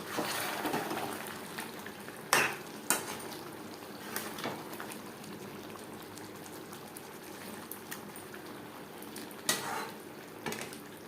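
Chicken for biryani cooking in a pot with ground tomato paste, a soft steady simmer and bubble with occasional clanks of a spoon against the pot, no talking.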